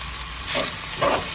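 Sliced onions and shallots frying in coconut oil in a clay pot give a steady, close sizzling hiss, swelling briefly twice as the pieces settle into the oil.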